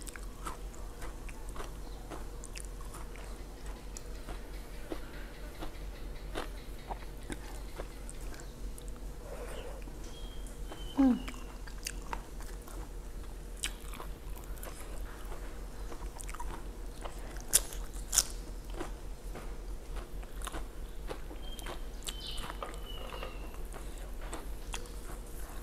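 Crunchy food is chewed close up in a quiet room, giving sharp, irregular crisp bites and soft crunches over about 25 seconds, with a few louder snaps and no talking.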